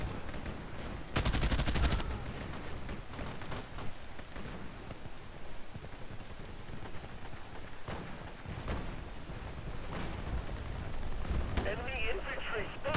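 Assault rifle fire in the online shooter Battlefield Play4free, with rapid bursts and single shots crackling between stretches of someone talking over the game, plus a sharp loud burst early on and scattered in-game effects.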